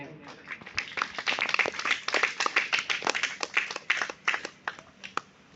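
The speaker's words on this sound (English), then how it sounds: "Let's give a big round of applause to them." A round of applause for guests at a student talk, individual hand claps distinct and uneven, fairly close and moderately loud, with some voices murmuring underneath.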